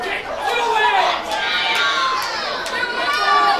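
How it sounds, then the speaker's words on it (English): A rambunctious crowd at an indie wrestling show roars and chatters continuously, with shouting voices and cheers rising and falling close by. "Rambunctious crowd very into this match."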